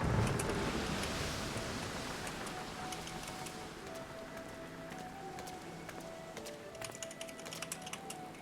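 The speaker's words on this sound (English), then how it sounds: "It's raining." Rainfall in the Final Fantasy XIV video game, a steady soft patter of drops across the whole stretch with a few sharper ticks, heard alone beneath faint sustained music tones.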